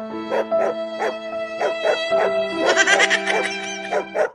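Cartoon sound effect of a big dog barking in a steady run of loud, close barks, with a harmonic hum underneath and a busier, brighter burst of yelps partway through.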